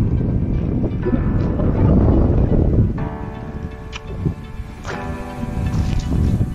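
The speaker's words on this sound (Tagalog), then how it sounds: "Ang lakas ng hangin." Strong wind blows outdoors by an almond tree, a loud, continuous roar buffeting the microphone with gusty swells and a few faint tonal rattles underneath.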